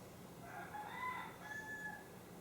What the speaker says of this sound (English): do you guys hear the rooster out there?